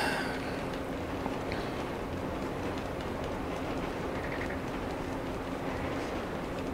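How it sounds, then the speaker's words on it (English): A train rumbles steadily in the distance in Grand Theft Auto 5, with a continuous low roar and faint rhythmic clatter, with no talking. "Because that's a train coming."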